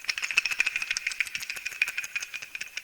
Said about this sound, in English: Next element of the list is the Gamelan Cowbell Shake Effects